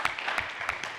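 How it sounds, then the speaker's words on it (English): Audience applause for an event's organizing team, steady broadband clapping with a few sharper bursts, moderately distant and fairly faint throughout. "we need to give, some applause for the organizing team"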